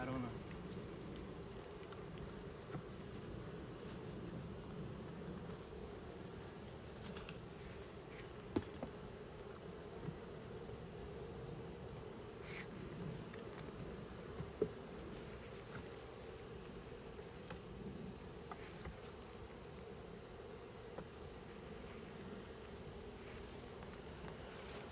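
Honey bees buzz in a low, continuous drone around an open, declining hive with sparse bees and empty comb, close and steady with faint clicks and handling noises throughout.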